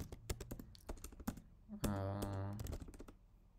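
Code is typed on a computer keyboard: quick, sharp key clicks in irregular bursts, close but quiet, with a brief tonal hum midway and no talk.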